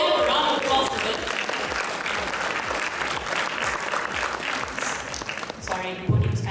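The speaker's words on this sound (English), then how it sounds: "So can we have a round of applause for it?" Sustained applause from a conference audience fills the room, dense and steady throughout, with a brief louder burst near the end and some crowd noise mixed in.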